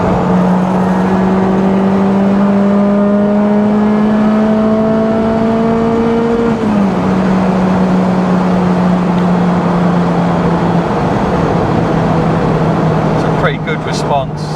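A supercharged Honda S2000 pulls hard in fifth gear, its engine whine climbing steadily in pitch, dipping briefly at a shift-like break, then droning on loud and close with cabin rumble.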